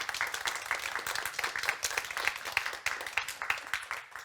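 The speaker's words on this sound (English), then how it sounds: "Can we have a small round of applause for them?" A conference audience at the CEER Customer Conference 2022 applauds its four speakers, giving a brisk, continuous patter of many hands clapping at moderate volume from the seated room, steady for several seconds.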